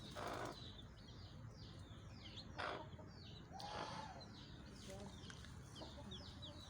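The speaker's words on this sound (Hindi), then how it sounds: "हमारी ये एक मुर्गी ने अभी अंडे हैच किए हैं। तकरीबन 9-10 बच्चे हैं, सब देसी हैं।" A desi hen clucks softly among her nine or ten newly hatched desi chicks, whose repeated thin chirps run throughout the clip at low volume on a farm.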